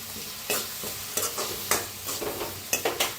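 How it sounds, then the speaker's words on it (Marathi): Turmeric roasts in an onion masala with chopped coriander in a pan as the base for a brinjal dish. A steady close sizzle is broken by repeated spatula strokes scraping the pan, with no talking. "तर हळद टाकल्यावर भाजून घेऊया छान असं"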